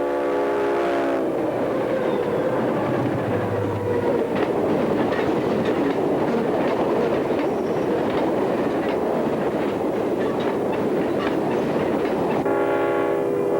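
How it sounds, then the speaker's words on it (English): A CSX grain train pulled by four diesel locomotives, a C-30-7, SD-40-2, U-18B and GP-40, roars past loudly with a continuous rumble and wheel clatter, a horn sounding at the start and end. "4 units consisting of a C-30-7, an SD-40-2, a U-18B, and a GP-40 pull a grain train."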